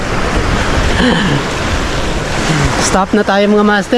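Waves and gusty wind roar steadily close to the microphone, with someone talking briefly near the end.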